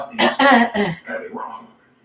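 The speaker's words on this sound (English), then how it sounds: "let me clear my throat" Someone clears their throat with a few rough, gravelly bursts up close, then trails off into a softer hum.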